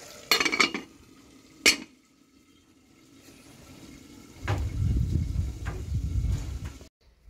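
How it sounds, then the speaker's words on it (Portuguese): Metal clinks and knocks twice near the start as a cooking pot of duck in beer sauce comes off the stove, followed by a lower rumbling clatter of pans being moved. No one speaks. "Já tiramos a nossa panela."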